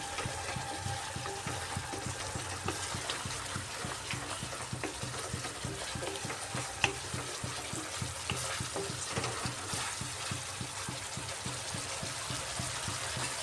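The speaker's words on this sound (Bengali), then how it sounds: "জল দিয়ে আরও কিছুক্ষণ কষাতে হবে" Spice masala simmering with added water for a cauliflower dalna, giving a steady, moderately quiet bubbling sizzle with faint stirring scrapes and no voices.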